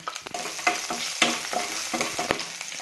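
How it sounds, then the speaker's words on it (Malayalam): Green chili, ginger and garlic sizzle in hot oil in a non-stick pan, a steady crackling fry broken by the scrape of a spoon stirring every half second or so. "ഇനി പച്ചമുളകും ഇഞ്ചിയും വെളുത്തുള്ളിയും ഇട്ട് നന്നായിട്ട് വഴറ്റണം."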